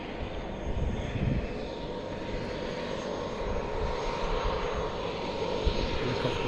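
An aircraft engine drones loud and steady at Lukla Airport in the Everest region of Nepal, a continuous broad roar with no speech over it.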